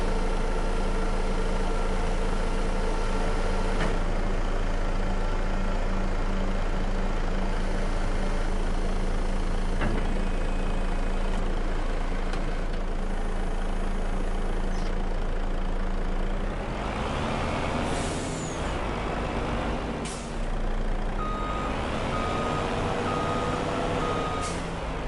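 A truck in Farming Simulator 25 on PS5 idles with a loud, steady engine drone and a continuous reversing beep, then a burst of air brake hiss cuts in near the end.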